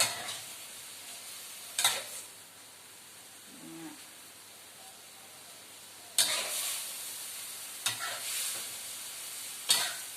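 Shrimp stir-fry in a pan with a soft, constant sizzle, punctuated by a few sharp scraping stir strokes at irregular intervals, close but fairly quiet.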